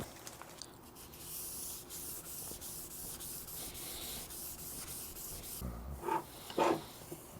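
Fine-grit sandpaper rubbing along a guitar fretboard in a steady, soft hiss of back-and-forth strokes, close up and alone, with a couple of louder scrubbing passes near the end.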